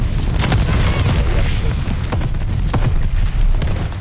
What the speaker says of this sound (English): Did it spawn me where my own fucking mortars were coming down?